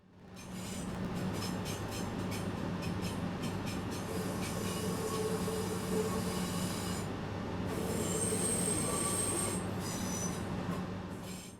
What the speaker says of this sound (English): I was hearing flange squeal noises despite the lack of a moving train anywhere near the station.